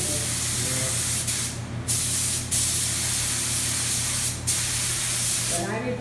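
A paint spray gun on a Norton Commando 750 restoration gives a loud, steady hiss in several long bursts with brief pauses between them, while voices talk quietly underneath.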